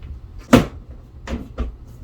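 The door of an ESTHELLO bathroom storage cabinet is handled during assembly, giving one sharp wooden knock followed by two softer bumps, close and clear in a quiet room.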